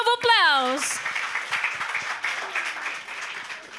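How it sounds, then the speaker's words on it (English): Audience applause at a university career fair, a moderate patter of clapping that follows a rising electronic swoosh, continuing steadily and easing off toward the end. "please give another big round of applause"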